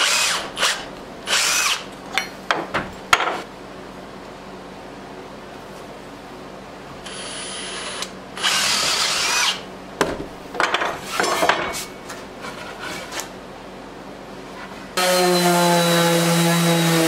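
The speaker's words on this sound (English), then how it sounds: "now what we're going to do is just go through and drill all of these holes" A power drill boring holes in wood whirs in several short bursts with pauses between, then a longer steady run at the end, loud and close.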